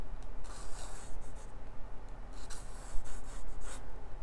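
Pencil dragged across paper along a French curve while sketching Spider-Man web lines, a close, soft, continuous scratchy rubbing with short strokes.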